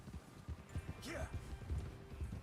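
Horse hooves clip-clopping in Red Dead Redemption 2, a rhythmic run of hoofbeats under game sound with a brief rising whistle-like tone partway through.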